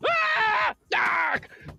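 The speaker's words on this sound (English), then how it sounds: "you would just find a bunch of, like, scream sound effects" Two drawn-out scream sound effects from a video game, loud and harmonic, the first lasting about three-quarters of a second and the second a bit shorter after a brief gap, followed by a fainter rough trailing noise.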